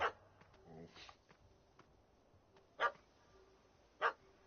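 A puppy in a video game barks in short sharp yaps, three distinct barks spaced apart with quieter whimpering between, over a faint game background.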